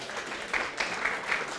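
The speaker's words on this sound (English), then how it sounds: "we can give all a round of applause for ourselves" Audience at a Golem community meetup in Berlin applauding, a brief dense wash of clapping from a crowd, moderately loud and continuous across the short moment.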